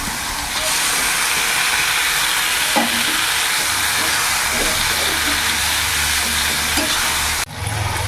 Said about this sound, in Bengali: এবার সেদ্ধ করা কচুর শাকটা দিয়ে দেবো।